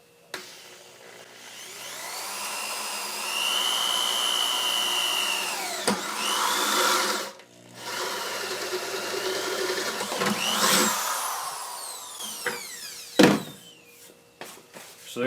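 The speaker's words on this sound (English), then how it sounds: "then just drill a hole" Power drill boring a 3/8 inch hole through a workpiece with a dab of cutting oil on a decent bit, a steady whining motor drone running for several seconds with a brief stop midway and a final short burst.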